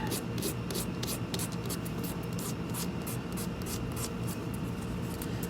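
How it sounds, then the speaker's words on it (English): Nail file lightly scuffing the top coat of a pinky nail, a soft rapid rhythmic rasping of short strokes, close and steady, with no talking. "lightly scuff the top coat just so I have a better bond"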